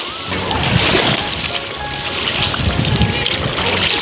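Ocean waves wash continuously at Sanur beach in Bali, a steady broadband rush of surf and splashing water close by, with faint voices scattered in the background.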